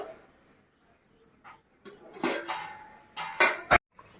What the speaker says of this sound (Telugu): ఒకసారి మూత ఓపెన్ చేసి చూసుకుందామండి.